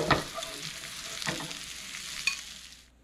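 Potatoes, kielbasa and bell peppers fry in a pan with a soft steady sizzle, while a utensil stirs and scrapes through the food a few times, close up and without talk.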